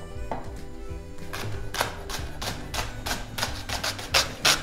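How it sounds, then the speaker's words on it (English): Knife slicing leeks very thinly on the diagonal for a Tuscan creamy leek soup, a steady series of crisp cuts against a board that grows quicker and louder toward the end, with no talking. "we are going to cut our leeks, okay? Very thinly and diagonal"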